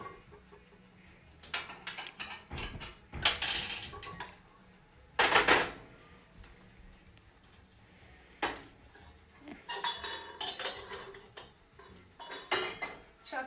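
An antique stove being lit in a home kitchen, with scattered clanks and rattles of metal parts, a couple of loud bursts of hissing ignition, then further knocks and scrapes, close and alone without voices.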